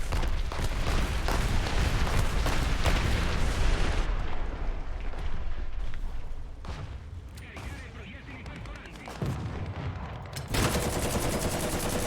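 A machine gun fires in the War Thunder video game, with loud rapid bursts of gunfire and booming impacts that thin out before another burst near the end.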